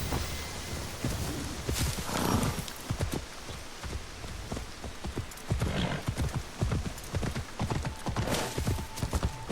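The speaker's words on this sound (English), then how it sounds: "Now my horse shows up." Steady clip-clop of horse hooves trotting at a brisk, even rhythm, close by, with a faint whinny and soft background ambience, in the video game Assassin's Creed Shadows.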